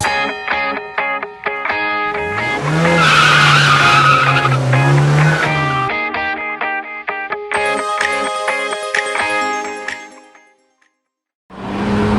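Loud tires of a BMW 330i skid and squeal over a roaring engine, with sustained screeching slides rising and falling before fading out, then a brief burst returns.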